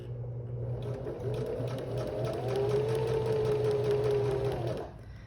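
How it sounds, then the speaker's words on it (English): A sewing machine runs continuously for about five seconds, stitching a straight line on a zipper pouch. The hum and rapid needle clatter are close and steady, speeding up slightly midway before stopping. "I'm going to sew a straight line all the way down on top of that stitch I already did"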